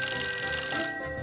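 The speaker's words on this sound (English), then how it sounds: "Olive, the phone's for you" A telephone bell rings in a movie scene, one loud, close electric trill that cuts off abruptly after about a second.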